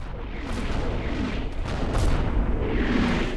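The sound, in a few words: artillery fire in Combat Mission Normandy video game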